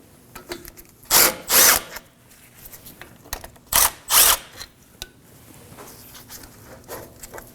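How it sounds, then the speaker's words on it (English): A ratchet with a 17mm socket cracks loose the brake caliper bolts on a 2014-2020 Acura MDX, heard as two loud bursts of clicking, each a quick double pull, with quieter workshop clatter between. "we move on to removing the caliper using a 17mm socket and a ratchet"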